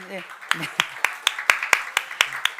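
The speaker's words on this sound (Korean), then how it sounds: "한번 환영의 박수만 한번 받으시는 걸로 이렇게 해주시고" A church congregation at a Sunday service giving welcoming applause, heard as brisk, evenly paced claps while a voice keeps talking over them.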